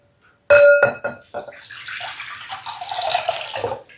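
Water is poured into a container holding orchid roots, starting with a splashy rush and then settling into an uneven trickle and gurgle that tapers off.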